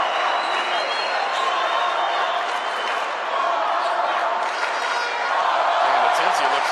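Crowd applause and murmur fill a basketball arena during a FIBA AmeriCup game between Mexico and Colombia, a steady dense wash of clapping with commentators talking over it throughout.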